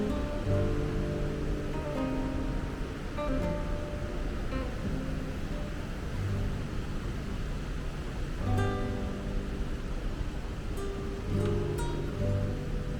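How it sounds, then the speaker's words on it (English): A natural waterfall at the Gorge de la Magog in Sherbrooke, Québec, roars as a steady broadband rush heard from a short distance, with faint scattered tones over the constant water noise. "There's a natural waterfall over there at the end."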